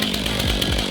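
A Stihl MS500i fuel-injected chainsaw is blipped on the throttle, a loud, close, buzzing two-stroke whine that rises and falls quickly in under a second.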